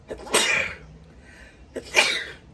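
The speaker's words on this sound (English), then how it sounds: "Sorry, I had a sneeze there." Two quick sneezes close to the microphone, separated by a short pause, in an otherwise quiet setting.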